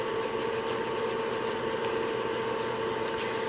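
A coarse 150-grit hand file rubs back and forth across a fingernail, producing a close, steady scratchy rasp with faint rhythmic strokes and no talking.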